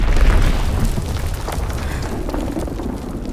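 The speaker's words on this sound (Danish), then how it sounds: "Enemy bomb incoming. Get to cover." A bomb explodes in the Call of Duty WWII multiplayer game as a deep, loud boom. It fades into a long, rumbling roar with no voices over it.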